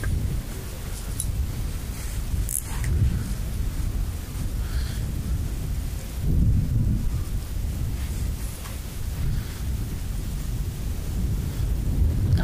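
Steady low rumble of wind buffeting the microphone outdoors while fishing, with gusts swelling louder around the middle and end, no voices.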